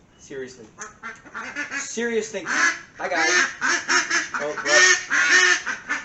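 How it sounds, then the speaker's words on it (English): A duck quacks repeatedly at close range, loud harsh calls mixed with excited talk and shouting from people nearby during work on a C4 Corvette. "We got a duck."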